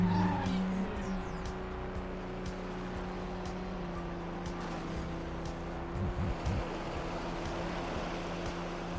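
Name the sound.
racing car drifting with tire squeal in video game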